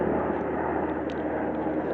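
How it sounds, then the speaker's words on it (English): A helicopter flies low overhead near a flight path into Olympia Airport, its engine a loud, steady, close rumbling roar that holds throughout without talk. "Sorry about the helicopter."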